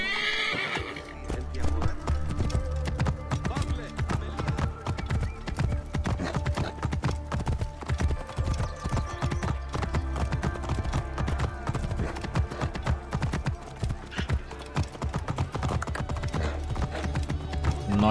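A horse gallops in Assassin's Creed Origins, with fast, continuous hoofbeats thudding close and steady throughout and a whinny near the start, while a player talks over it.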